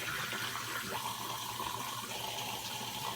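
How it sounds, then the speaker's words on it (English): Hot water pours steadily from a bathroom tap before a wet shave, a loud, continuous rushing splash that runs unbroken from start to finish. "Okay, got the water going."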